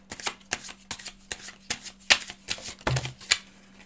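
A deck of tarot cards is shuffled in a steady run of quick riffling, papery flicks, close and clear with no talking over it.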